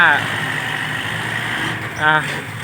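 A plowing tractor's engine drones steadily at a work site, a low, even mechanical hum running the whole time while someone talks over it.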